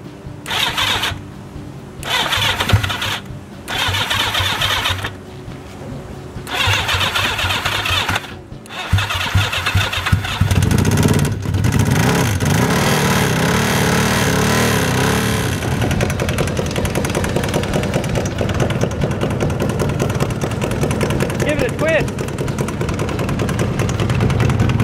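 A motorcycle engine on a bike under repair cranks with several short starter bursts, then catches and runs loud and close, revving and idling roughly for the rest of the time.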